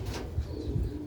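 Pigeons coo softly and repeatedly at close range, with low throaty coos over a faint flutter of wings and no talking.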